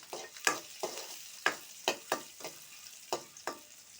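Onion and garlic fry in oil in a pan for a Bengali dried-fish dish, heard as a quiet sizzle broken by about nine sharp, evenly spaced stirring scrapes, close and without speech.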